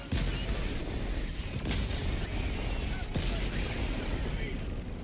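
A walking barrage artillery strike in Helldivers 2, heard as a heavy, continuous roar of booms and rumbling blasts with a few sharper impacts standing out, sustained and loud throughout.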